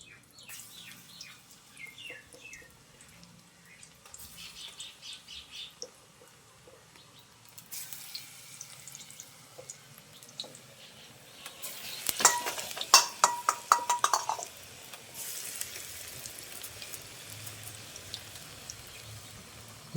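Pakoras fry in hot ghee in a karahi with a soft, uneven sizzle and light bubbling, plus occasional clinks and scrapes of a utensil, fairly faint at first and louder midway.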